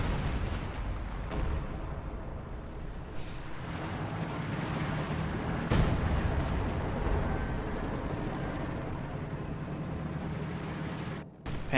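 A self-propelled Priest artillery gun bombards an area in a wartime strategy game, a steady dense rumble of blasts and impacts that fills the stretch without a break and peaks in one sharp crack midway.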